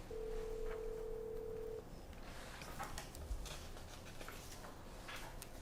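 A telephone call is placed: a single steady ringback tone sounds for about two seconds, then gives way to faint line hiss and small clicks, quiet and close.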